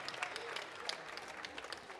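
Audience applause at a senior cosplay trophy final on stage, dense and steady throughout with scattered sharper claps, heard from within the hall.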